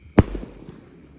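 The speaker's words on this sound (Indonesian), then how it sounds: "menyalakan mercon Bima Sakti mulai dari ukuran paling kecil sampai dengan paling jumbo malam ini" A Bima Sakti firecracker goes off at night with a single sharp, loud bang up close, followed by a brief fading rumble and crackle.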